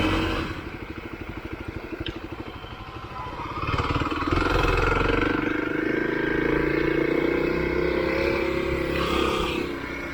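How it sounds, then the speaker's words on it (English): A Kawasaki KLX 300 dirt bike rides across a field trail, its engine putting out a steady, close thrum that surges louder about four seconds in and then holds a continuous drone. "Here's a little bit of field or something with some trail I can ride on."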